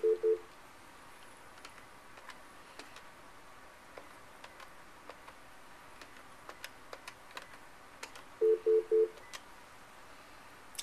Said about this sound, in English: You will hear a series of quick beeps and the display will prompt you to input the phone number you would like calls forwarded to.